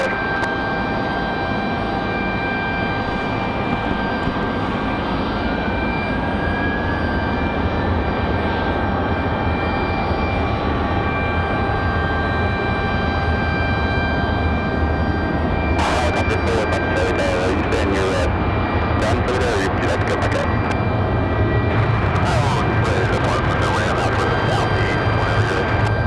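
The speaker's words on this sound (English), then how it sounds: "Southwest 2071, and left heading 210, runway 23 left, clear for takeoff" A Southwest airliner taking off from runway 23 left at Raleigh-Durham, a loud continuous jet engine roar with a whining tone building and swelling, heard from nearby with radio chatter and voices mixed in.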